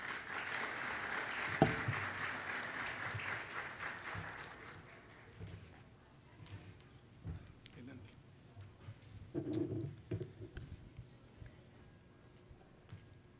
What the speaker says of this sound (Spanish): y un aplauso de todos ustedes